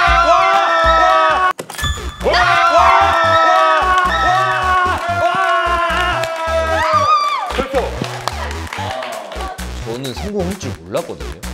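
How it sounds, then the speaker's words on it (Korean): A crowd cheers and whoops together after a successful bet at a ghost casino game on a Korean reality show. Loud, overlapping excited voices and shouts fill the whole stretch, thinning into scattered calls near the end. "막 진짜 다 환호성 했죠"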